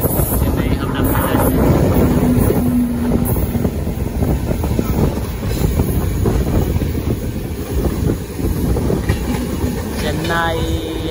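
Chennai–Howrah Mail express passing on an Indian railway line, heard from aboard another train: a loud, steady rush of wheels and wind across the whole clip, with voices talking over it.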